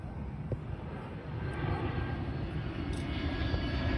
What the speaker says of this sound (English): now here's another view where you can hear the engine still running